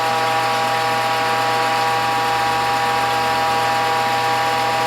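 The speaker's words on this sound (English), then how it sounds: "That sound you hear is the bypass valve." A juice press's bypass valve releases excess pressure while kale, sorrel, carrot, beet, turmeric, ginger and garlic are pressed, giving a steady, loud mechanical hum with a constant tonal drone and no talking.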